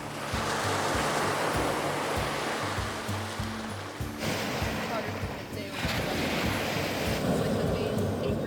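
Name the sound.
ocean waves on the beach at Homer, Alaska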